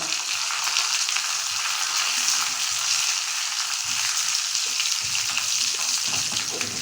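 Asafoetida tempering sizzles steadily in a hot pan, a loud, continuous bright crackle of frying oil with faint stirring, no voices.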